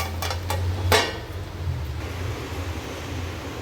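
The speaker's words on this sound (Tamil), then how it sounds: "இப்போ ஒரு மூடி போட்டு மூடி வச்சிடலாம்" A lid set down on a pan over melting mozzarella while making bread tikka, giving a few short metallic clinks and one louder clatter near the start, then a quiet steady sizzle-like hum.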